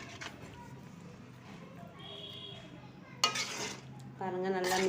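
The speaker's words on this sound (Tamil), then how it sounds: "போட்டு நல்லா கலக்கி விடலாம், கலந்து விடலாம்" A spoon stirs and scrapes through drumstick curry in a metal pan, with intermittent clinks and scraping bursts that grow louder toward the end, mixed with a faint sizzle and a voice talking.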